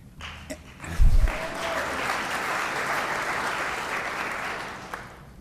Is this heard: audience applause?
yes